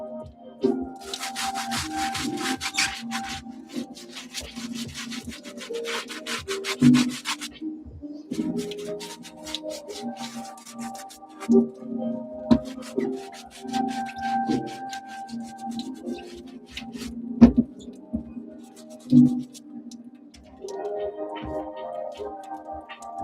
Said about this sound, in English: I try not to ever use these on fabric because they're stiff. The bristles are stiff.